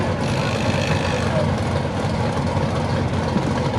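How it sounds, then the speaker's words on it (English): A Silverback C10 truck with a nitrous-assisted big block Chevrolet engine at a drag race: a deep, rumbling engine drone, fairly loud and steady, with faint voices underneath. "The Silverback C10 truck, nitrous-assisted big block Chevrolet."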